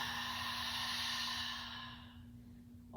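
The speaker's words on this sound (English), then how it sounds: "Open mouth, exhale." A deep exhale through an open mouth during a yoga breathing exercise, one long breathy rush close to the microphone that fades out over a couple of seconds.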